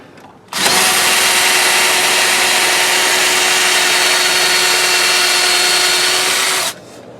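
A power drill bores out the ignition switch on a 1965 Ford Galaxie LTD, one loud steady whine running unbroken for about six seconds before cutting off.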